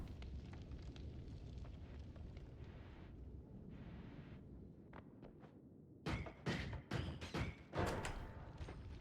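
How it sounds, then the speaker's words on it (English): Explosions and fire in the video game Noita: a muffled, crackling rumble of flames gives way to a burst of sharp, loud blasts and thuds in quick succession. "Or is everything just blowing up and doing fire?"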